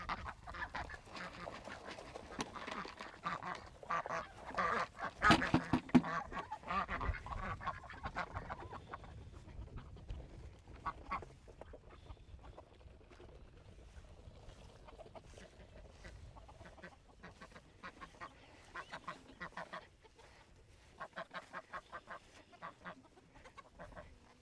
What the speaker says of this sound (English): the ducks are on their way over here to steal their food.